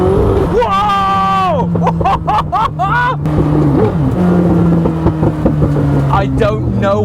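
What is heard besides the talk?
Koenigsegg Chimera engine downshifting and revving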